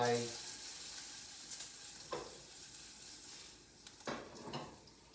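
Ham strips frying in a pan, a faint steady sizzle with a few soft scrapes and clinks, quiet and close, no speech.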